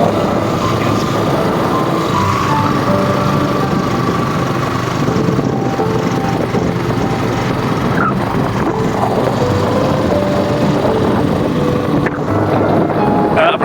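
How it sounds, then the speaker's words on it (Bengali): Motorbike ridden along a road through a hilly tea garden, a loud steady engine drone with rushing wind noise for the whole stretch. "বাইক চালিয়ে যাচ্ছি"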